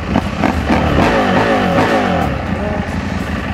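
A stock KTM 890 Adventure R motorcycle engine revs and rumbles up close, its pitch rising and falling through a few throttle blips, with no voices over it.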